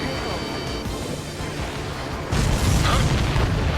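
An enemy transport blows up in the Ace Combat 7 flight combat game, a loud, broad boom that erupts midway and rolls on over the steady background of jet and battle noise.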